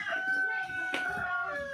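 A rooster lets out one drawn-out crow lasting under two seconds, fairly close and clear, with faint background sounds but no talking.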